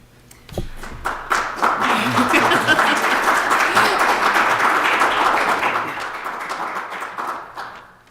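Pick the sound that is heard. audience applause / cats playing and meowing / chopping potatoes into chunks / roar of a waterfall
audience applause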